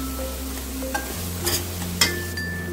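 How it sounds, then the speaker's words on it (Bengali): Spices with ginger, garlic and green chilli frying in a pan for a lemon chicken dish, with a steady sizzle, soft stirring scrapes and a few sharper utensil clicks, close and alone. "2 মিনিটের মতন একটু মশলাটা আমি কষাবো, যাতে রসুনের কাঁচা ভাবটা চলে যায়।"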